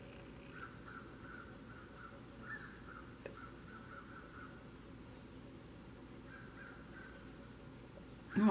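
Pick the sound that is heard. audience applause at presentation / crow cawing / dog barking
crow cawing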